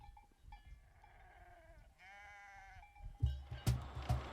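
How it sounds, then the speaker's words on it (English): Sheep bleating beside a road near an abandoned castle: several drawn-out, wavering bleats from more than one animal, moderately close, followed by louder thumps and rustling toward the end. "Just love those sheep."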